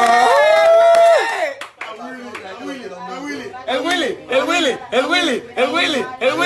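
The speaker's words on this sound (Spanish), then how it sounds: "¡Un gran aplauso!" Audience applause for William Hurtado at a stage show, clapping running beneath a loud announcer's voice at first, then rhythmic shouted cheers rising in repeated bursts.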